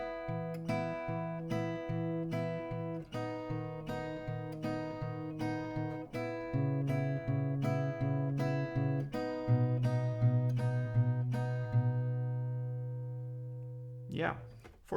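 Acoustic guitar picking pattern, steady plucked notes in a repeating rhythm with low bass notes changing under the chord, close and clear, ending with a short strum.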